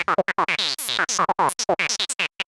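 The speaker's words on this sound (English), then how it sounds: "Really good sounding squelch." Quick run of short, bouncy notes from a TyrellN6 virtual analog synthesizer, each with a resonant filter sweep that squelches up and down, playing alone.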